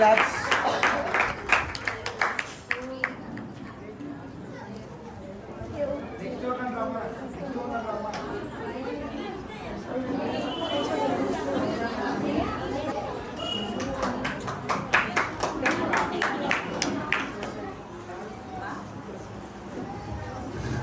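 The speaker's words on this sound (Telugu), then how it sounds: "క్లాప్స్" An audience at a women's Christmas gathering with songs and skits breaks into scattered clapping in several bursts, with chatter and talk running between and under the claps.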